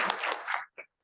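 Brief burst of audience applause at a maritime law lecture honoring a lawyer, a dense clatter of clapping that fades out after about half a second, followed by a short faint sound.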